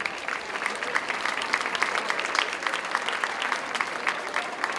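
An audience claps for a radio presenter at a stage event, steady dense applause holding at an even level for several seconds with no voices over it.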